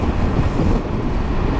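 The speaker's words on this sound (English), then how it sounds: "Oh, that's windy as well." Wind buffets the microphone during a motorcycle tour in the Black Forest, a loud, continuous roar of rushing air with no voices.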